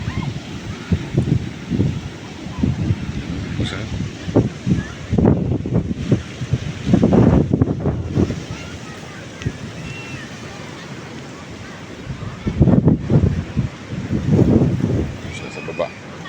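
Rough sea surf and wind roar steadily close by at Bolinao, Pangasinan, with surges of crashing waves building and fading, and a voice speaking now and then over the noise.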